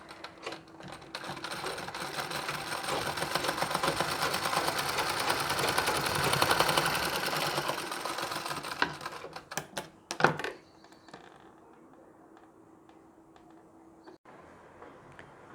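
A sewing machine stitching a saree blouse runs in a steady, fast mechanical whir for about nine seconds, then stops with a few clicks and handling knocks before a quiet stretch.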